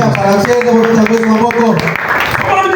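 A church congregation applauding at a French-language worship service, a steady rhythmic clapping under a loud voice and music.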